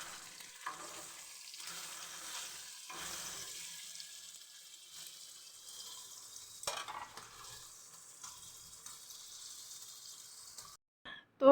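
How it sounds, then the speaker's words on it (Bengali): Two pieces of small hilsa fish fry in a pan at home, giving a faint, steady sizzle with occasional soft stirring and a sharper clatter at the very end. "2 পিস ইলিশ মাছ ভেজে নিচ্ছি।"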